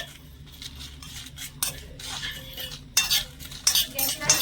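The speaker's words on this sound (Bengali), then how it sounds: "এই গোটা মশলাগুলো এবারে নেড়ে ছেড়ে একটু ভেজে নেব" Whole coriander, cumin and panch phoron toasting lightly in a pan for a pickle, stirred with a metal spoon that scrapes and clinks in quick repeated bursts over a soft sizzle, close and fairly loud, no voices.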